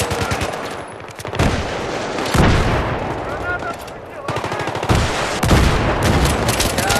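Bursts of rifle fire from an SKS in Battlefield 3 crack out loudly in rapid clusters, mixed with other gunfire and explosions in a busy battle, with players talking over the action.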